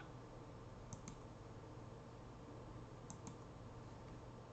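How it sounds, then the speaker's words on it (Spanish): Two soft double clicks of a computer mouse being right-clicked, about two seconds apart, faint and close over a steady low room hum with no talking. "póngale un clic derecho a copiar"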